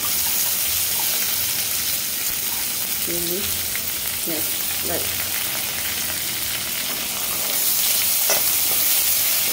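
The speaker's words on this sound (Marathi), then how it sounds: "कांदा चांगला परतायचा यामध्ये" Chopped onions sautéing in hot oil with golden fried garlic in a pan give a steady, close sizzle throughout, with a few brief stirring scrapes.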